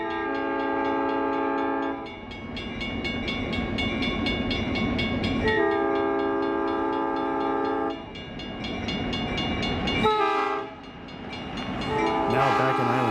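An Idaho Northern & Pacific Railroad train on the Joseph Branch rolls past near Island City and sounds long, loud horn blasts in a repeating pattern over the steady rumble of the cars.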